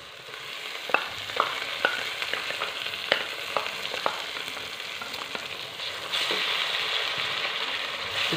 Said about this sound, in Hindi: अब इसमें अदरक लहसुन का पेस्ट ऐड करेंगे।